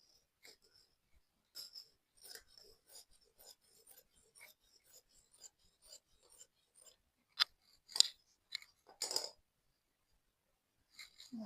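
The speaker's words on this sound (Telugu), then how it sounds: "ఈ కటింగ్ ఇక్కడ ఈ పీస్ ఇలా ఉంది కదా, దీనిలో నేను స్ట్రైట్గా కట్ చేసుకుంటున్నాను." Scissors cutting straight through fabric for a dhoti salwar, a run of faint snips followed by a few louder, sharper cuts in a quiet room.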